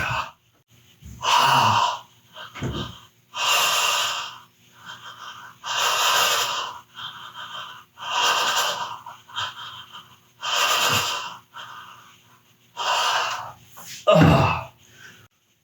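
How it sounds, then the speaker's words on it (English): Deep open-mouth breathing during a bioenergetic tension-release exercise: about seven loud, heavy breaths with a wheezy, rushing quality, repeating in a slow, steady rhythm close to the microphone. "It's just open mouth breathing, eyes wide open."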